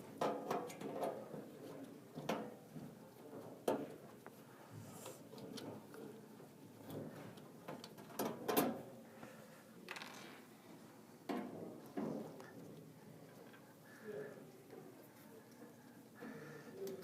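Four screws come out of a Profitec Pro 700 espresso machine under a 2.5 mm Allen wrench, giving quiet intermittent ratcheting clicks and small metallic ticks and scrapes at close range with brief pauses between turns.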